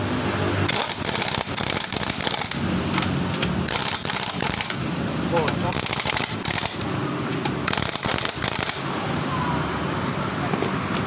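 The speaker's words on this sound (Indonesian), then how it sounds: "Sekarang ini tinggal kita pasang dengan impact" An impact wrench fitting a car wheel after a tyre repair, loud repeated bursts of rapid hammering rattle, several runs separated by short pauses, close and harsh.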